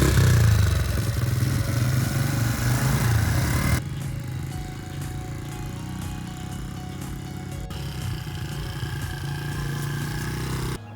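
Small Honda motorbike, a rebuilt machine sized for a child, ridden nearby, its engine a steady buzzing drone that is loudest in the opening seconds and then runs on at an even level without pause.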